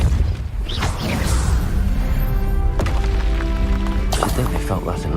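Hogwarts Legacy spell combat with a forceful Depulso impact: a heavy booming thud and rumbling crash amid dense game noise and ringing tonal effects, with a second burst of clatter near the end.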